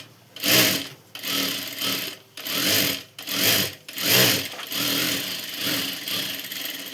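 A sewing machine stitches the back strip of a katori blouse in a series of loud, close bursts of rapid whirring, separated by short pauses, with a longer steady run at the end.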